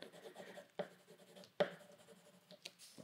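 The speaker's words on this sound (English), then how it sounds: "And you got to go over it with pencil, even the plants." A pencil scratches and shades across paper during a design rendering, with soft close strokes and a few sharper taps in the quiet.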